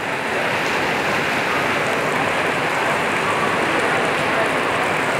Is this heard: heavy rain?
yes